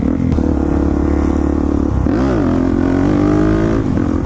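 A street-legal 50cc pit bike engine drones steadily while being ridden, its pitch dipping and swelling once midway as the rider shifts or blips the throttle, loud and close with no talk over it.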